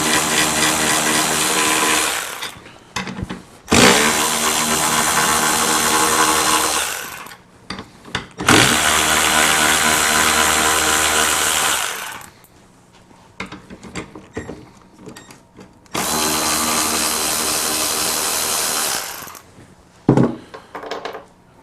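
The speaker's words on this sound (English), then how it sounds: "I've just got an electric wrench" An electric wrench zips 10mm bolts off the top cover of a Mercury two-stroke outboard, loud close bursts of whirring in four runs of a few seconds each, separated by quiet clicks and handling noises.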